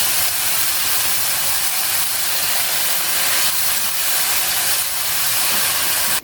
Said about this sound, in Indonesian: masukkan potongan daun bawang dan digonsreng-gonsreng kembali